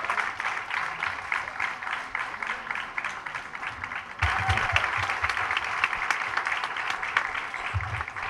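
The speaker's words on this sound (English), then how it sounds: "I'll just put a huge round of applause for Mayapali Lakshmi" An audience at a song launch event applauds steadily, a dense wash of clapping that swells louder partway through and carries a few low thumps.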